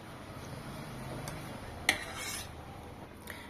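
Spoon stirring paneer into a veg biryani mixture in a pot: soft, close scraping with a single sharp metallic clink midway and no talk.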